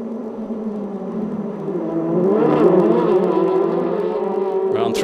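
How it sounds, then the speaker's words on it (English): Formula Renault 2.0 race cars scream past at the Red Bull Ring during a Eurocup race, a steady high engine whine swelling louder midway as a car nears, then holding at full speed. "going to see perhaps the attack from Defoni as they come around through turn 1 into turn 2 along that very fast straight"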